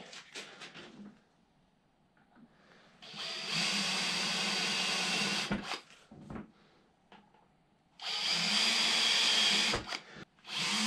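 A power drill with a 4 mm metal bit runs in two sustained bursts of high whirring, each lasting a few seconds, separated by quiet pauses with faint handling clicks and knocks.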